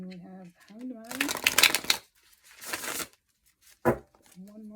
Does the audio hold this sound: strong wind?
no